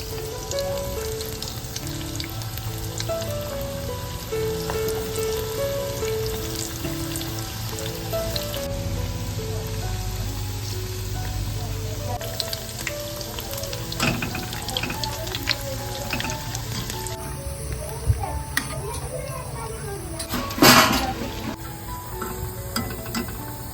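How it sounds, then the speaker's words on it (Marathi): Sabudana rolls deep-fry in hot oil in a kadhai, giving a steady, dense bubbling sizzle throughout. A few clinks and handling noises stand out near the end. "याच्यामध्ये आता आपण तेलामध्ये रोल घालून घेतोय"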